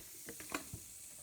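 Baking soda reacting with vinegar gives a faint, quiet fizz with a few soft crackling pops spread across a brief moment.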